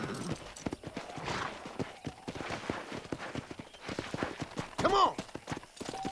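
Horse hooves clip-clopping at a steady walking pace in the video game Red Dead Redemption, moderately close, with someone speaking over them and a brief higher call near the end.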